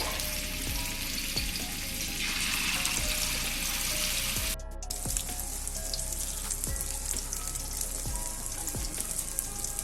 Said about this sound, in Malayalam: അപ്പോൾ ഞാൻ 2 പീസാണ് ഇങ്ങനെ വറുത്തെടുക്കുന്നത്.